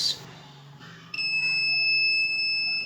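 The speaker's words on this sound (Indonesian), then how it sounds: "dan ternyata buzzernya masih nyala" A Redmi 6A phone buzzer sounds during a multitester diode test, first with a brief chirp and then a sustained, piercing high tone lasting nearly two seconds before stopping.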